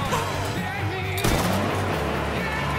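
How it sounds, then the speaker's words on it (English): Gunfire in the video game Mafia III, a sharp burst near the middle standing out over a dense bed of game noise and background chatter. "Some bitch is shooting at the dispatch station."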